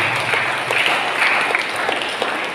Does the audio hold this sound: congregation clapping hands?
yes